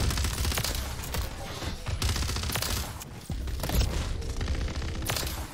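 An HRM-9 submachine gun fires rapid, loud bursts in the shooter game Call of Duty Warzone. Several dense volleys follow one another closely with short pauses.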